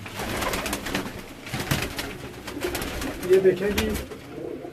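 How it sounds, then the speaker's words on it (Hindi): Paired pigeons, including Teddy and Rampuri breeds, coo in a loft, soft repeated cooing under someone speaking. "ये हमारे जोड़ों वाले कबूतर हैं जो हमने जोड़ों में डाले हुए हैं परवाज़ों के लिए"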